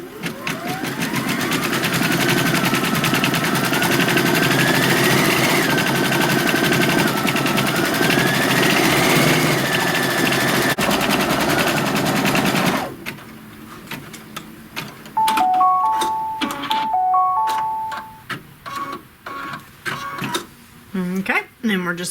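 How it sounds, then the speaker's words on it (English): An embroidery machine runs a placement stitch for a piece of green felt, a dense mechanical whir with rising tones, then stops into clicks and electronic beeps, with a person talking over it. "what it's going to do first is just stitch a placement line for our piece of green felt"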